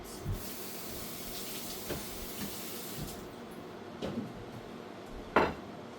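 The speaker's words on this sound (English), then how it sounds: "Clean off the plate" Plate being cleaned at a kitchen sink while cooking a vegetable dish: soft clinks of dishes and cutlery over a low wash of running water, with a few sharper knocks and one louder clatter near the end.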